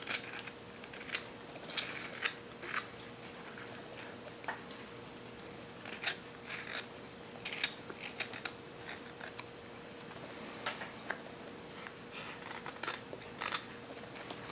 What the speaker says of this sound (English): But you hear the knife drag? I think you can hear it. That's because it's going against the grain.